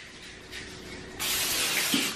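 Pam cooking spray hisses onto cupcake trays, one brief puff followed by a longer, louder steady spray at close range.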